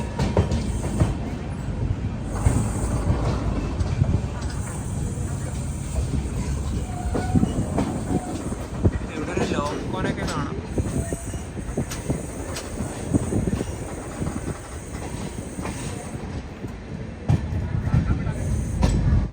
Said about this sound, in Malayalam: സ്റ്റേഷനിലേക്ക് ഇതാ ട്രെയിൻ എത്തിക്കൊണ്ടിരിക്കുകയാണ്.